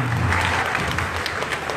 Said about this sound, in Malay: Beri tepukan kau sikit.